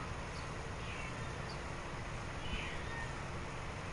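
A domestic cat meows a few times, faint and somewhat distant, over a steady broadband hum of background noise.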